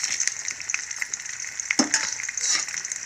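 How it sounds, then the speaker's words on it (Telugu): Onions and dried red chillies sizzle and crackle steadily in hot oil, close up, with occasional stirring scrapes and pops. "ఇవి ఫ్రై చేసుకున్నాను బాగా ఇది బాగా వేగేటట్టు చూసుకోవాలి"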